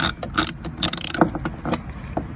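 A few quick ratcheting clicks from a ratchet loosening a spark plug on a Ford Expedition 5.4 3V Triton, close and moderately loud, in short bursts with small pauses between them, no voices.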